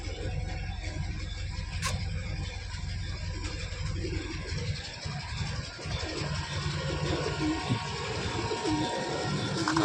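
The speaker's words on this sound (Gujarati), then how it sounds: "આ છે કબૂતર." Pigeons cooing at a roadside hotel stop, soft repeated coos under a steady wash of traffic and outdoor background noise.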